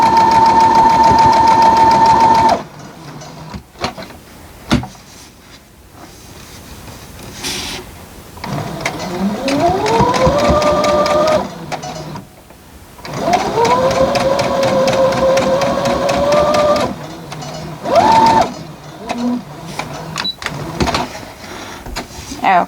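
A sewing machine stitches a quilt seam through thick fabric, a loud steady mechanical whir that runs in several long bursts and stops between them, with someone talking over the pauses.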